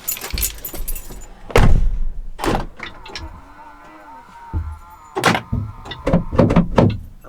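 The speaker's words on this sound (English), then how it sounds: "The keys now, just before I lock them in the car." Car keys jangle in short metallic bursts beside a Land Rover Discovery 4, mixed with door clunks and latch sounds at close range, with a faint hum between the louder moments.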